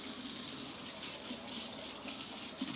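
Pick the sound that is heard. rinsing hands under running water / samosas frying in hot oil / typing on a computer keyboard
rinsing hands under running water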